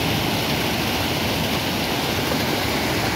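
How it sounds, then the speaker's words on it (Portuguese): The swollen Rio Salgado rushes past in a dense, loud, unbroken roar, its water churning into waves as it surges downstream after heavy rains. "Olha as ondas, pessoal, que se formam quando a água desce"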